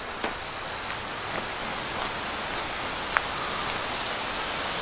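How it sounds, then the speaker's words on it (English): Light rain sprinkles outdoors at Opossum Lake, a steady soft hiss of fine drops with a few faint isolated ticks, no talking. "a little bit of sprinkles coming down from the clouds, but nothing, not a downpour by any means."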